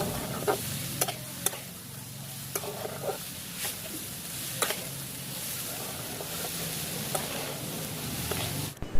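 A coconut, sugar and cardamom filling for modak is stirred in a pan over medium-low heat, a soft steady sizzle with repeated scraping strokes and light taps, no talking.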